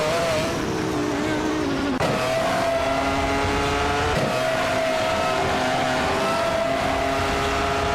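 Williams FW18 Formula One car engine in a racing video game, a sustained high-pitched whine with steady harmonic tones, a shift-like break around two seconds and again near four, loud and continuous with no talking.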